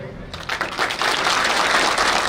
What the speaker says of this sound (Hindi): ताली कम बजी आपकी